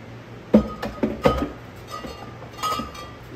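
Glass wine bottles clink against each other as they are packed into a Yeti Roadie 24 cooler. A few close, bright clinks and knocks come at irregular moments over a faint background hum, with no speech.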